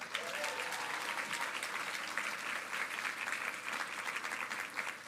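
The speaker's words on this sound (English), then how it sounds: "Give Aoife a big round of applause" Audience applause at a children's book awards ceremony in Ireland, a dense, steady clapping from a full room that holds evenly for the whole stretch with no talk over it.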